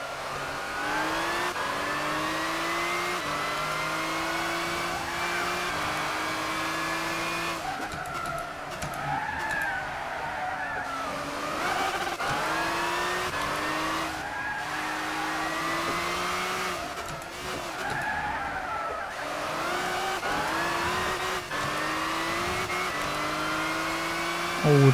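A race car in Gran Turismo 6 on a test lap, likely a Lamborghini 650LP or 700LP: the engine revs up through the gears again and again, with rising whines, sharp shifts and some tire squeal, steady and close throughout.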